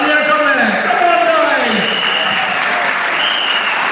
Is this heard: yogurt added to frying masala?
no